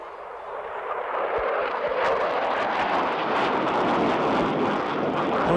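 An F-16 fighter jet on a high-speed, low-altitude pass at an air show, a loud broadband roar that builds and holds, rushing close by with no talk.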